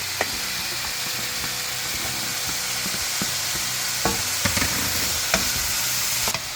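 Bitter gourd sautés with softened tomato and onion in a pan, a loud continuous sizzle punctuated by sharp spatula taps and scrapes against the metal.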